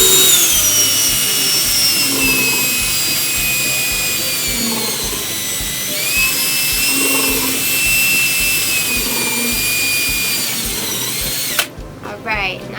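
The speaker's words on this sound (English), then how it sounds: "So start drilling your holes." Power drill boring holes in a plastic bucket for an apartment compost bin: a close, loud, steady motor whine that dips in pitch midway and cuts off abruptly near the end.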